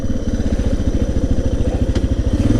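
A Suzuki DR650 motorcycle riding down an alley, its single-cylinder engine thumping in a rapid, steady pulsing rhythm, loud and close, with a brief mechanical click partway through.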